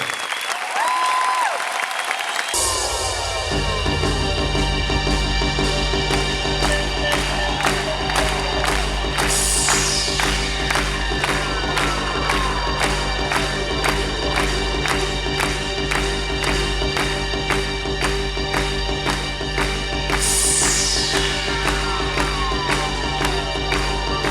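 A crowd at Carthage applauds and cheers in a long, steady roar of clapping, carried over sustained tonal music with a regular beat that runs the whole time.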